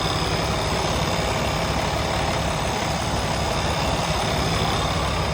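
A Freightliner Cascadia truck engine idles just after starting, a steady, loud diesel rumble that holds even throughout with no talking.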